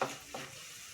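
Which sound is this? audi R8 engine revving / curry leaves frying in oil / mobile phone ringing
curry leaves frying in oil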